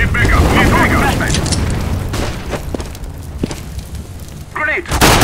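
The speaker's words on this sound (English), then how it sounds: "Deploying flashbang." A flashbang grenade goes off in Counter-Strike: Global Offensive with a loud sharp burst and ringing tail amid other game sounds, followed by a second blast near the end.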